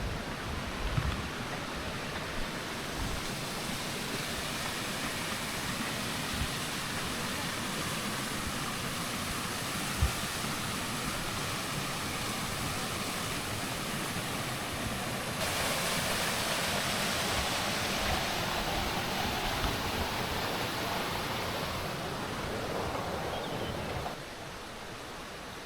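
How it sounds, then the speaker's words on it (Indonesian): River flowing beside a campsite on Mount Puntang in Bandung, a dense steady rushing wash of water that continues without a break, loud and close, with no voices. "ada suara aliran sungai juga"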